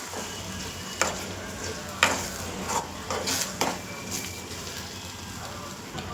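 An egg mixture for Kannada-style egg palya fries in a pan under a constant sizzle. Several sharp spatula scrapes and knocks on the pan stand out against it, close up with no speech.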